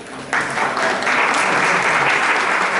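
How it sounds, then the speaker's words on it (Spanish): A church congregation bursts into loud applause for their pastor, the clapping swelling after a brief start and holding dense and strong for nearly three seconds. "Un aplauso a su pastor."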